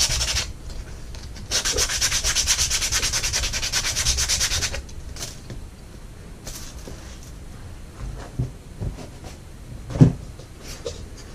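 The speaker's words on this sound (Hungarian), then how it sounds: "Ezt is meg fogom csiszolni." Sanding a paper-covered Valentine's Day fridge magnet: steady, close abrasive rasping for about three seconds, then quieter intermittent rubbing strokes with a few soft knocks and handling clicks.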